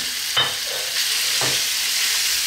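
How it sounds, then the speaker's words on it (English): Minced beef fries in a pan for a meat sauce, a steady bright sizzle with two distinct stirring scrapes, close up and fairly loud, no voices. "Then we're going to add our meat, our ground or minced meat."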